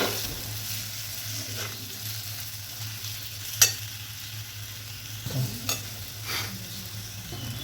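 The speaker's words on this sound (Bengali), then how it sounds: "এবার মশলাটাকে ভালো করে মিশিয়ে নেব।" Coriander and cumin powder paste stirred in a hot pan for okra masala, a steady moderate sizzle with a low hum underneath and occasional scraping spatula knocks, no one talking.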